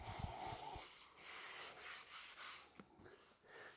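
Light, gentle sanding across a worn leather car seat with almost no pressure, a soft steady rubbing that swells and fades in short strokes, close and quiet with no talking.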